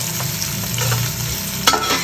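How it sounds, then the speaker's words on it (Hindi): Onions frying briefly in oil with garam masala make a steady, close sizzle with a low hum beneath and a sharp clink of stirring near the end; nobody speaks. "बस एक दो मिनट के लिए इसको ऑयल के साथ और गरम मसाले के साथ फ्राई कर लेना है"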